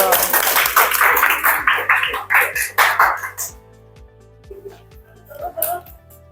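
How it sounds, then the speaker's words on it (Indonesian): Students applauding a classmate in a nursing classroom, a burst of clapping for about three seconds that fades into scattered claps and murmuring voices over a steady background hum. "Tepuk tangan dulu"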